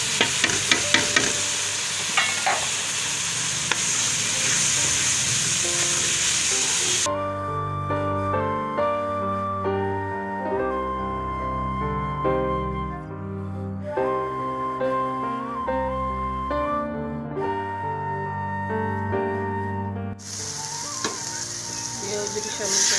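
Spices sizzle and are stirred in a pan of goat intestine (ojri) curry, a dense, close frying hiss that fills the opening stretch and returns at the end, with music playing in between.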